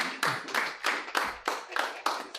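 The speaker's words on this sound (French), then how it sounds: "On les applaudit bien fort." Applause from a small cast and crew at the wrap of a French film shoot, a burst of hand claps swelling and repeating in uneven waves, fairly close and clear with no talk over it.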